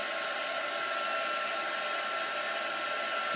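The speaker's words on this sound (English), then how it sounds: "I'm going to go ahead and take my heat tool, and I'm going to put it on setting number 2, and I'm going to heat emboss this" Heat embossing tool on setting two blowing a steady, constant hot-air roar while embossing a stamped card, loud and unbroken throughout with no talking.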